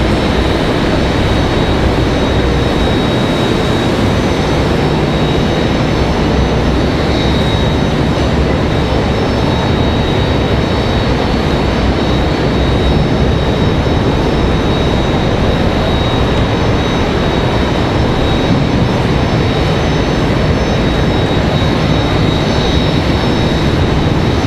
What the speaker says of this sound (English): So there's that A319 from Philadelphia. Delta about to get a move on.